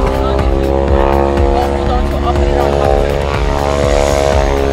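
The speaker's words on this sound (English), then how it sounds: "Big old Cessna Caravan." A big Cessna Caravan propeller aircraft, in Grant Aviation markings and fitted with an underbelly luggage rack, drones steadily at close range throughout while people talk over it.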